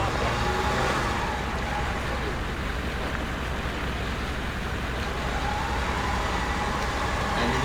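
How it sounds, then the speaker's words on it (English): A 4WD on a gravel and dirt track in the Victorian High Country, with no traction control or diff locks, one wheel on each side spinning. A steady broadband engine drone and wheel churn continue throughout, with a faint voice underneath. "one wheel on each side spinning and going nowhere"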